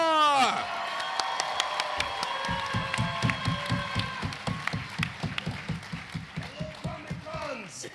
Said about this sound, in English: Let's give a big round of applause for Fred Tatasciore.